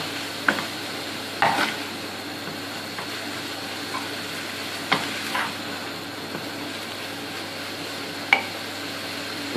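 Food being stir-fried with soy sauce over high heat, heard as a steady moderate sizzle with occasional scraping stirs, close and without voices.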